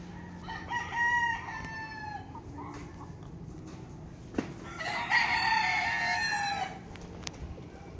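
A gamecock rooster crows twice nearby, two drawn-out calls several seconds apart, with a sharp knock between them and faint background noise throughout.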